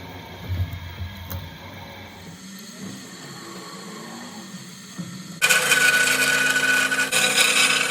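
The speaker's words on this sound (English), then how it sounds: "I'm drilling the holes in the cross guard." A drill bores holes in a knife cross guard in a small workshop. A quiet room hum gives way to a sudden loud, steady, high-pitched grinding whine that runs for the last few seconds.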